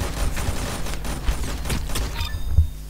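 A new weapon in an online shooter game fires a rapid burst of loud, close gunshots packed tightly together, with a final sharp report near the end.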